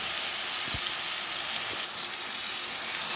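Loitta (Bombay duck) fish sautéing in a pan, a steady, fairly loud hiss and sizzle with a couple of soft low knocks from stirring, and no talking.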